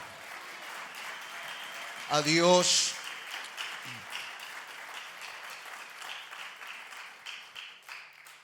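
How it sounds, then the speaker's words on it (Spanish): A church congregation claps during a Spanish-language service, a moderate, fairly even round of applause running under a preacher's voice, with a brief loud vocal burst early on. "Denle un fuerte aplauso"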